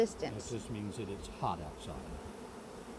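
Bees buzz around an open hive while a father and child do beekeeping outdoors in hot weather, a steady low hum under close conversation.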